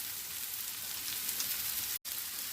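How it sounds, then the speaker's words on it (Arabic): Small diced onion cubes frying in oil in a pan, a steady, soft, even sizzle with a brief gap near the end, with no voices. "هنحط شوية زيت في الطاسة، هننزل بالبصل مقطع كده"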